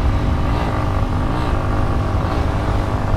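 A motorcycle is ridden with a steady, loud engine drone and rushing wind noise throughout, without clear revving changes.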